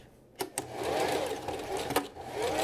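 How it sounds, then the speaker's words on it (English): A sewing machine runs in steady bursts stitching a pocket seam on pumpkin-print fabric, a close whirring hum broken by a couple of brief clicks and pauses. "I did not have a seam allowance, so I'm just gonna sew just the normal one"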